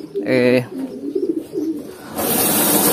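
Racing pigeons give a brief cooing call near the start, then other soft outdoor sounds and a broad noisy wash as the birds take off and gather back at the loft.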